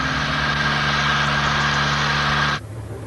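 An aircraft engine drones steadily at a constant pitch before takeoff, loud and close, then cuts away abruptly near the end, leaving a faint low rumble.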